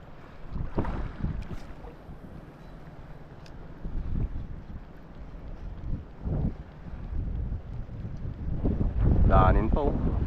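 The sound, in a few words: strong wind at sea from a boat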